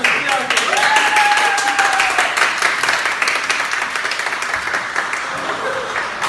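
Sustained audience applause for a soloist at an arts commemoration program, a dense steady clatter of many hands lasting throughout, with a few faint tonal whistles or voices rising briefly above it early on.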